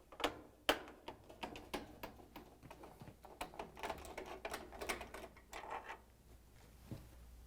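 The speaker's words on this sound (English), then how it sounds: "We're going to use that 1/4-inch nut driver to take out the screws that hold it on" A 1/4-inch nut driver backs screws out of the access panel on a GE washing machine, making a dense run of small close clicks and ticks of uneven rhythm.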